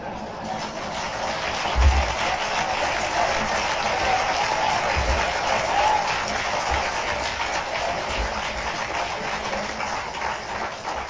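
Applause from a press club audience during a preacher's address, a sustained wash of clapping hands at steady volume for several seconds, with a few low thumps and voices mixed in.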